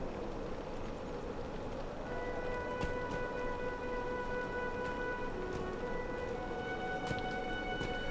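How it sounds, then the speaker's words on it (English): Steady rain falls in the game Lord of the Rings Online, a constant broadband patter of drops with faint tonal ambient layers and occasional sharper drip-like ticks, heard without any talk. "look at the storm clouds came over, started raining"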